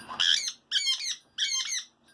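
A pet parrot in a heated enclosure squawks three times in quick succession, loud harsh calls each about half a second long with short gaps between them, close to the listener, with no talking.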